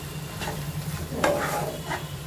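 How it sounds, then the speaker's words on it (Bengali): Ema datshi, Bhutan's chilli-and-cheese dish, stirred with ground black pepper in a pan, giving soft scraping strokes over a steady low sizzle, close and moderately loud with no talking. "এবার এটা ভালো করে মিশিয়ে নেব।"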